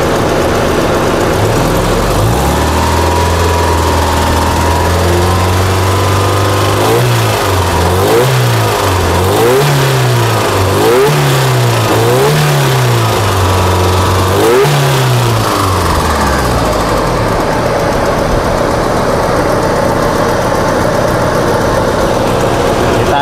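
A modified Opel Blazer's engine revs repeatedly in a rising and falling pattern over a low idle, loud and close, then settles back toward idle.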